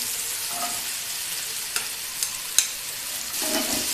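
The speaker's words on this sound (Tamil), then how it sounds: "இப்போ வெண்டைக்காய் போட்டுக்கலாம்." Okra frying in a pan of masala while being stirred, a steady close sizzle with a few light scrapes of the spoon against the pan.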